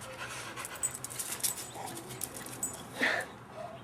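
A dog pants rapidly and whimpers up close, with breathy rhythmic panting punctuated by a louder high whine near the end, no talking.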